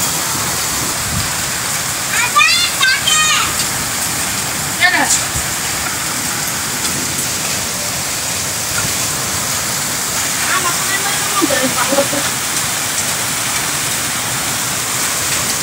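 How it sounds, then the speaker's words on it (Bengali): Heavy downpour over Dhaka, a dense steady roar of rain hissing throughout at close range, with a few brief voices and clatters breaking through. "মুষলধারে বৃষ্টি হচ্ছে"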